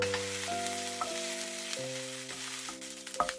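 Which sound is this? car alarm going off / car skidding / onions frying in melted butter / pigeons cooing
onions frying in melted butter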